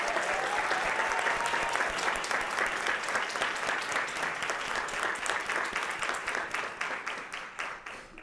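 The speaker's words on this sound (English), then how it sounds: "Please give a round of applause to Adrian and her family." Sustained applause from an audience at a school board meeting honoring a retiring community member and her family, steady dense clapping throughout that thins slightly near the end, with a faint voice early on.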